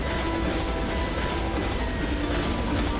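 A cargo train moving in Ratchet & Clank, a loud continuous rumble with rattling clickety-clack and faint metallic tones, steady throughout with no talk.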